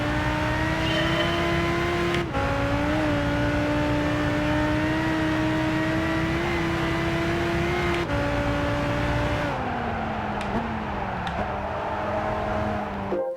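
A race car engine in Gran Turismo 5 holds a steady, loud high-pitched drone, with sharp gear-shift breaks and pitch drops as the car slows toward the end, and no talk.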